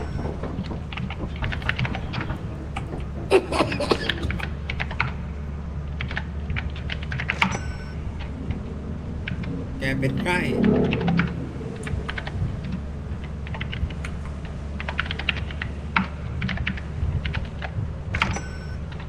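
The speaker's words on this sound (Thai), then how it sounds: "คี่บอร์ดพยานนี้มันดัง" Steady computer keyboard typing, loud and close, with rapid irregular key clicks continuing throughout and a brief murmur of voices partway.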